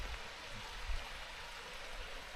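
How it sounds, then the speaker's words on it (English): A waterfall on Kinder Scout in the Peak District makes a steady, broad rush of falling water that stays close and constant, with no voices over it. "waterfall."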